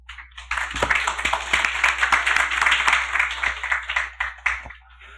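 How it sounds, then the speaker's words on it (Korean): Audience applause at a membership association's presidential election candidate forum in Korea, a steady field of many hands clapping with a few sharper individual claps, rising quickly and tapering off near the end. "장시간 열과 성을 다해 준비해 주신 회장 후보자님들께 뜨거운 박수 부탁드리겠습니다"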